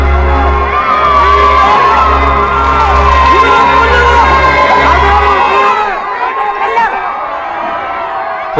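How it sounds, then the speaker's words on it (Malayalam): A large crowd roars outside a palace, with loud, continuous shouting and cheering and high excited yells on top. The din drops away abruptly near the end. "പുറത്ത് കേൾക്കുന്നത് കാഴ്ച കിട്ടിയ ഒരു പുതിയ തലമുറയുടെ ആരവമാണ്"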